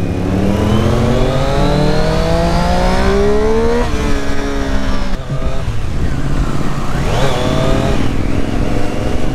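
A Triumph Street Triple RS motorcycle engine accelerating hard, its loud revving tone climbing steadily through the gears with short drops at each shift, close and continuous with no talking.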